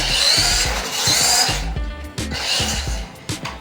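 The small electric motor of an MN Model 98 limited edition RC Land Rover whines at full throttle, a high buzzing drive that drops away into clicks, knocks and brief motor bursts.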